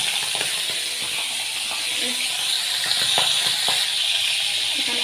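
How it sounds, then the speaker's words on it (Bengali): Chapra fish frying in hot oil for a prawn curry, a steady loud sizzling hiss throughout with faint clinks of utensils. "তার জন্য আমি চাপড়া মাছগুলোকে ছেড়ে দিচ্ছি তেলের মধ্যে।"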